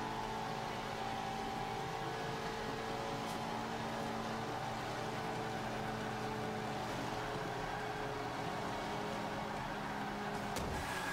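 A 1995 Mitsubishi Eclipse races around Indianapolis Speedway in Forza 5, its engine giving a steady, loud, sustained drone at high revs with little change in pitch throughout.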